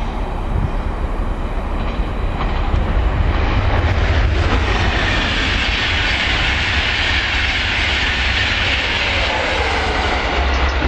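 A train passing at Werrington Junction on the railway, a loud continuous rumble and roar of wagons rolling by close to the listener, steady throughout with a faint rhythmic clatter.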